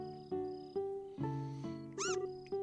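Cartoonish cat meows from the video game Trails in the Sky, several short tonal calls in a row over game music, followed by a brief higher rising squeak near the end.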